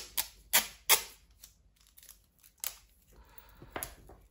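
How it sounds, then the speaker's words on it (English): Sticky tape is pulled off the roll in sharp, crackling rips and pressed onto a cardboard toilet roll tube, with several distinct bursts separated by quiet gaps. "I'm gonna stick that down with some sticky tape"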